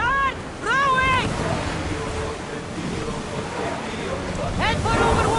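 Rowing a ship across ocean waves in Assassin's Creed Odyssey, with steady wind and surf washing throughout, while crew voices chant and call over the water.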